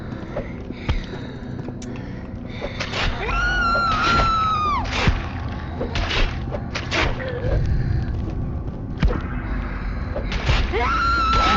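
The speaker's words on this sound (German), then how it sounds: "Oh, das Geschrei, das geht schon durch Mark und Bein" Screaming from the found-footage survival horror game DEADCAM: repeated shrill, wavering screams over a rumbling, thumping background, loud and close, with brief gaps between cries.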